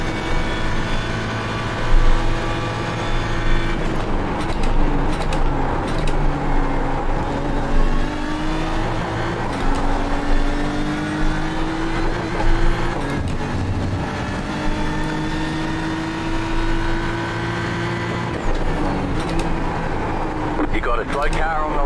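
A BMW M4 GT3 race car at Imola in iRacing roars continuously, its engine pitch rising and falling through gear changes and corners, loud and close, with a commentator talking over it throughout.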